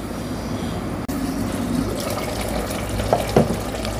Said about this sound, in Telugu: ఇప్పుడు చింతపండు పులుసు పోసుకుందాం